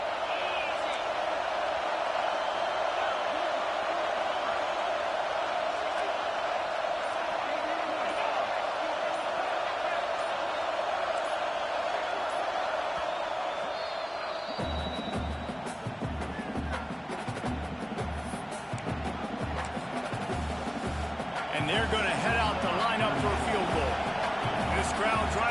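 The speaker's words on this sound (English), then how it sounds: "This crowd trying to do its part to get inside the kicker's head" A stadium crowd in a Madden football video game roars steadily during a field goal attempt. In the second half, rhythmic thumping stomps join the roar, and a commentator talks over it throughout.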